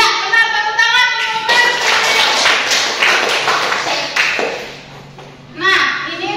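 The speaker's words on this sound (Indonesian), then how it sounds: "Iya, benar, tepuk tangan." Pupils in a classroom clap together in a burst of scattered, overlapping hand claps lasting a few seconds, with a teacher speaking just before and after.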